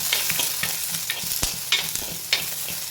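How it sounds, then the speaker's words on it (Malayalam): Garlic and shallots sautéed with mustard seeds and fenugreek in a clay pot for kara kuzhambu, a steady close sizzle broken by repeated scraping stirs and a few sharp clicks of a utensil against the pot. "നമുക്ക് ആഡ് വെളുത്തുള്ളി, ചെറിയ ഉള്ളി, ഇതെല്ലാം കൂടെ നന്നായിട്ടൊന്ന് വഴറ്റാം."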